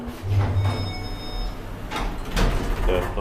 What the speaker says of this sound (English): There are still Kone doors, nice.